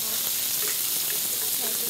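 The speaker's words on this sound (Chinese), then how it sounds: "那我們現在要把它稍微那個兩面煎熟" Pork belly pan-fries for a scallion-braised dish, giving a dense, steady close sizzle and hiss with faint stirring under it.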